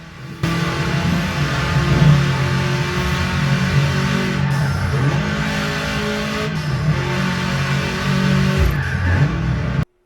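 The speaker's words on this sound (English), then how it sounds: "the engines revving" Car engines rev and accelerate loudly, reproduced through a Nakamichi Shockwafe 7.2.4 Elite soundbar with Dolby Atmos, a sustained roaring drive for most of the stretch with rising and falling pitch before it cuts off abruptly.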